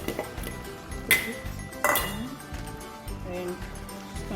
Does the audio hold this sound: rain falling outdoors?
no